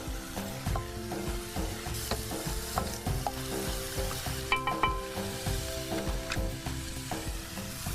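Chopped onion is stirred and cooked in a pan, giving a soft, steady sizzle with rhythmic scraping of a spoon along the pan, quiet and close with no voices.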